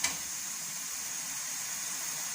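Petha halwa, a pumpkin-based sweet, roasting in a pan gives off a steady, soft sizzling hiss at moderate volume, with a brief sharper spatter right at the start.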